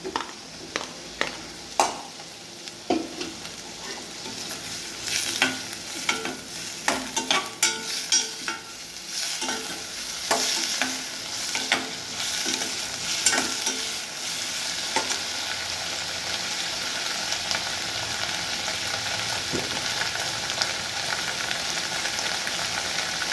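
Tomatoes frying in oil for a paarai fish curry, stirred in the pan: a continuous soft sizzle with repeated scraping clicks of a spoon, busier at first and settling into steady frying, heard alone at close range.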